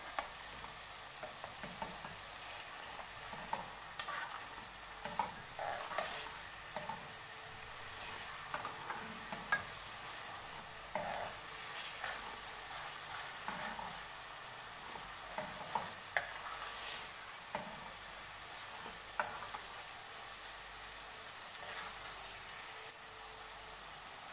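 Masala roasts in a pan with a faint, steady sizzle, punctuated by light intermittent clicks and scrapes of stirring.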